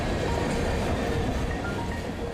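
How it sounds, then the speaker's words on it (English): A train rolls past on a busy railroad line in Illinois with a dense, steady rumble and rattle of wheels and cars, loud and continuous throughout. "oftentimes we have 100 or more trains a day coming through here"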